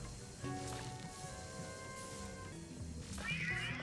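A cat meows in Luigi's Mansion 3, a few close drawn-out mews over a soft rustling game background, fairly quiet.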